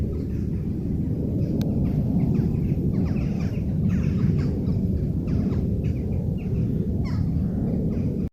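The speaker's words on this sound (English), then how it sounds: "Planes going over, making a right racket" Aircraft pass overhead above a quiet stretch of the river Wissey, a loud, sustained low rumble filling the air, with faint bird calls scattered over it.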